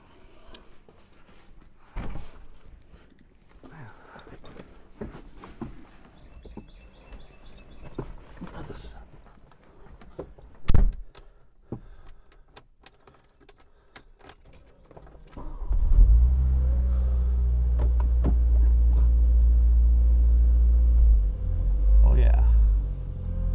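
A 1985 Volkswagen Cabriolet that sat for ten years: keys jangle and clatter inside the car for several seconds before the engine starts and settles into a loud, steady close rumble.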